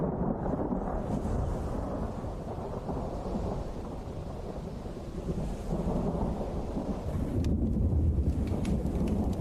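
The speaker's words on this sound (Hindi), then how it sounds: "बिजली कड़कने की आवाज है।" Heavy rain pours steadily while deep thunder rumbles loudly and continuously, building to a stronger roll near the end, with no voices.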